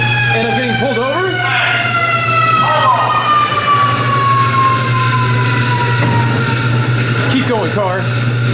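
A police-style siren effect wails on an amusement park car ride. Its rising and falling tones sweep over a steady low ride hum while people talk nearby.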